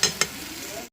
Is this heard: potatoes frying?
yes